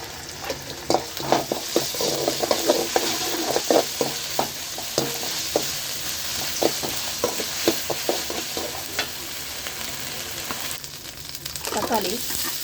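Ginger garlic paste fries in a pan for mutton kulambu, a steady sizzle broken by repeated scraping stirs of the spoon, close and fairly loud throughout.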